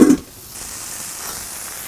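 Bacon cheeseburger patty sizzling on a flat griddle, a steady soft hissing fry that holds evenly after a short louder clank at the start, close and alone without talk.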